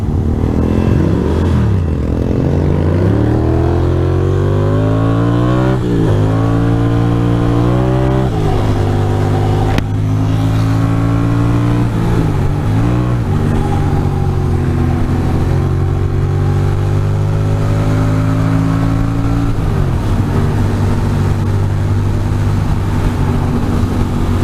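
A motorcycle revs repeatedly on a Manhattan street, its engine pitch rising and falling in a series of loud, close throttle blips over steady traffic noise.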